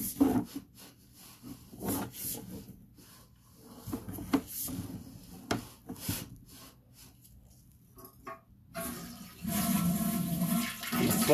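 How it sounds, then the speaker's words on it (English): Toilet beside the drain stack in a house being flushed to rinse a sewer line: rumbling, gurgling water with some knocks and shuffles, surging louder near the end, with no voices. "Flush this toilet right next to the stack to try to kind of rinse this line out a bit."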